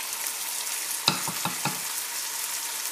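Onions and lamb with spices cook in a tajine, a quiet steady sizzle broken by a few sharp clicks and scrapes as the pot is stirred.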